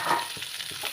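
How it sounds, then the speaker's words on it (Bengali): Boiled, cut potato pieces dropped into hot oil already tempered with cumin seeds and a torn dry red chilli, giving a brief close sizzle with a couple of soft stirring scrapes. "তেল গরম হয়ে গেছে, তেলের উপর একটু ফোড়ন দিয়ে দেবো।"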